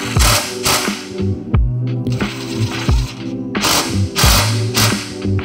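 Fasteners being driven into CaptiveAire supply ductwork sections, a loud, close rhythmic ratcheting and tool clatter that repeats in several short bursts and then pauses, with a steady low hum underneath.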